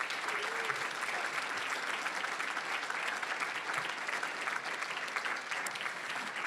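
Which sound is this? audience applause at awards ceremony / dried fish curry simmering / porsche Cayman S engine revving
audience applause at awards ceremony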